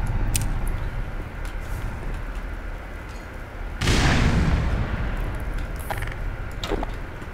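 Grenade explosion in Black Mesa, one loud broadband blast bursting midway through after a stretch of lower combat noise, with scattered sharp cracks on either side.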